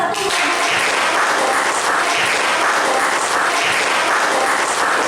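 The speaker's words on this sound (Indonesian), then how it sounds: "Kita beri tepuk tangan untuk kelompok" Students in a biology classroom clap for a presenting group, a continuous, even burst of many hands at close range lasting several seconds without talk.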